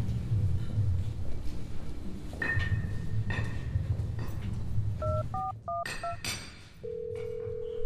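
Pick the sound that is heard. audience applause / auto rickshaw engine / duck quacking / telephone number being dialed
telephone number being dialed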